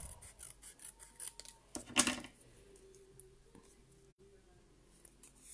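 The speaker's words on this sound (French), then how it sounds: "J'avais pas coupé droit, donc j'y vais au ciseau." Scissors snip through paper in a quiet indoor crafting session, a few soft clipped cuts with one sharper snap near the middle, faint and close.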